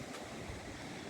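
Wind and half-metre waves with whitecaps on a bay while sailing make a dense, steady rushing wash that fills a brief stretch.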